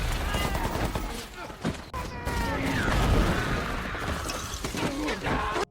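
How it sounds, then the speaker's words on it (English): Chaotic World War II battle din of gunfire in a war film as Japanese forces open fire on soldiers, with dense crackling shots and impacts layered over shouting voices and continuous noise throughout. "Gunfire erupted and many soldiers were killed almost instantly."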